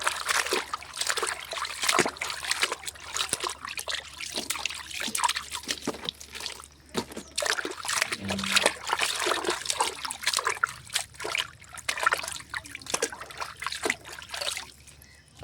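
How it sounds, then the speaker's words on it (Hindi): Leafy greens washed by hand under plentiful running water, a steady trickling and splashing stream with bursts of sloshing throughout, close and fairly loud. "भाजी को अच्छे से धो लेती हूँ, ज़्यादा पानी से ही धोऊंगी"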